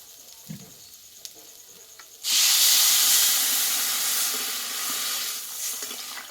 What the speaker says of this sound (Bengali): এবার এখানে আমি জলটা দিয়ে দেবো